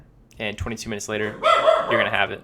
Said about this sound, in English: sorry about the dog, folks. I've got 2 small corgis.